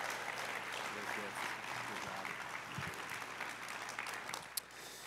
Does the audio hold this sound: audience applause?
yes